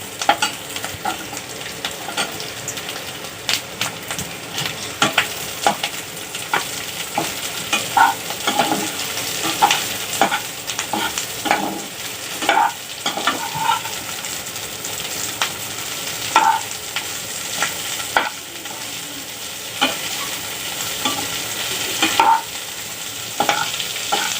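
Capsicum stir-frying with onions in a pan makes a soft, continuous sizzle broken by frequent sharp scrapes and clacks of a spatula tossing the vegetables, close by and without speech.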